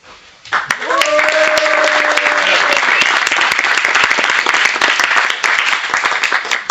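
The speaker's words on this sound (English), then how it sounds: "Applause now, please." Loud audience applause at a Startup Weekend Košice opening ceremony, brisk dense clapping that starts abruptly and continues for several seconds, with a voice speaking briefly over it near the start.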